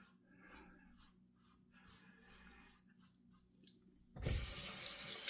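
Water from a bathroom tap gushing loudly into a sink to rinse a double-edge safety razor, starting abruptly after quieter faint handling clicks and rustles.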